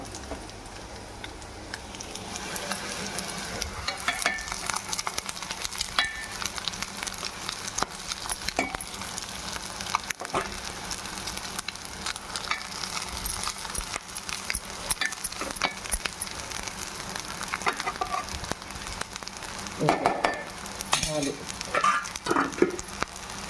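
Hot cooked rice tossed and stirred in a pan for egg fried rice, a continuous soft sizzle with steady scraping and clatter of the spatula throughout, faint sounds of movement and a few louder scrapes near the end.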